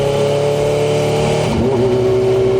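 A Kawasaki Ninja H2 motorcycle is ridden with the helmet visor open, its loud steady engine drone and rushing wind close and constant, the pitch dipping and then settling at a new level partway through.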